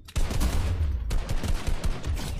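Rapid automatic gunfire in an online shooter game, a dense burst of repeated shots loud and close, continuing almost without pause.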